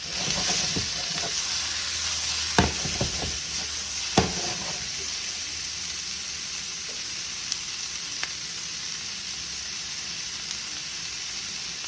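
Vegetables sautéing in a pan give a continuous soft sizzle and hiss, with occasional clicks and scrapes of stirring heard close up.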